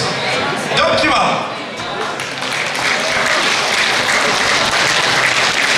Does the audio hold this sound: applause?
yes